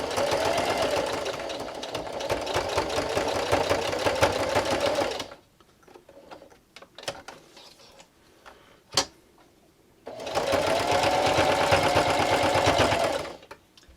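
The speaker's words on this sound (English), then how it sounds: "And I'm just going to finish sewing on my circle and backstitch at the end." A sewing machine stitches over a fabric tab on a headphones pouch in two loud, steady bursts of rapid mechanical running, separated by a quiet pause with a few clicks and handling knocks.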